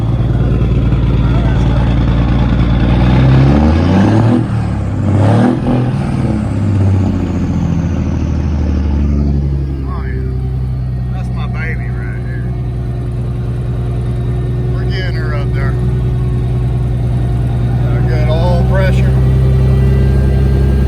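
Engine idling steadily around 1,000 rpm, held by a throttle control valve, a low continuous hum with a brief rev near the start, with people talking over it.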